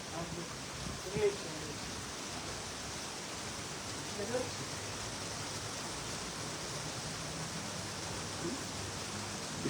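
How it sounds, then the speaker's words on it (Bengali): Steady rain falls in Jakarta, Indonesia, a soft, even hiss that continues unbroken at moderate distance, with a few faint bumps and no clear speech. "ওফ কতদিন পর বৃষ্টি দেখুন ভাই"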